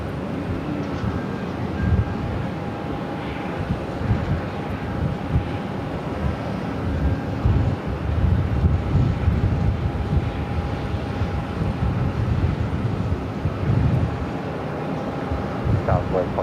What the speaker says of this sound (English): The Star Alliance livery, Air Canada A330-300.